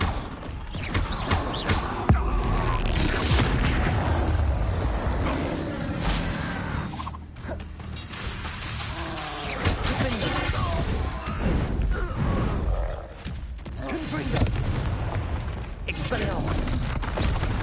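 Confringo explosion spell blasting in the Hogwarts Legacy video game: repeated crashing, shattering bursts and mechanical clatter through a busy combat mix, loud and continuous with brief dips.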